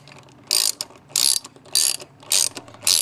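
Socket ratchet tightening new fuel injector bolts on a 1.0 three-cylinder Geo Metro, five crisp bursts of close ratchet clicking in a steady back-and-forth rhythm, no talking.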